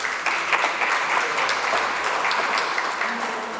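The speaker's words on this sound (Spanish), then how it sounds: "Recibamos con un caluroso aplauso al doctor Luis Icochea Salas." An audience at a conference on the El Niño phenomenon claps warmly to welcome a speaker, a dense, steady round of applause filling the hall without talk.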